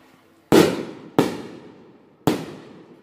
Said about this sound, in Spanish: Por eso es que revientan los cohetes.